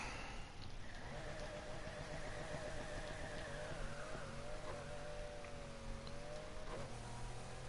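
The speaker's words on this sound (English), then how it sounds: "Doesn't really sound like a V8. It doesn't really sound like a V12 either" Engine of a Lamborghini Countach V12 in Need for Speed Heat, a steady sustained drone with rising and falling pitch as the car accelerates and shifts, continuous and moderately loud with no talk.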